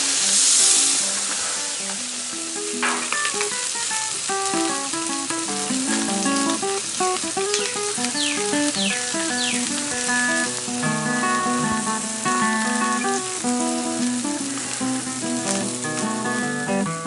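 Three whole whiting fish laid on a Lodge Sportsman's cast-iron grill sizzle in a steady hiss, partly buried under continuous background music, with no talking.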